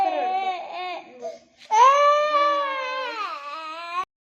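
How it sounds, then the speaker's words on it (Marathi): A young child cries close by, broken whimpering sobs giving way to a long, loud, wavering wail that cuts off abruptly. "सारखं उठल्यापासून काय झालंय काय माहिती, नुसतं रडतोय."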